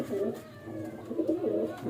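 A pet pigeon sits nearby and gives soft, low, throaty coos in short repeated phrases, fairly close and quiet, with faint background noise between them.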